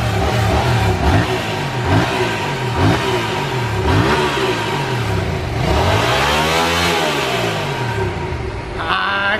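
A new motorcycle engine revs hard in repeated rising and falling bursts, loud and close, with a longer sweeping rev near the end.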